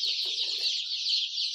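Dense, continuous peeping of a large batch of 11-day-old Andijan black chicks, many high chirps overlapping steadily and close, with no talk.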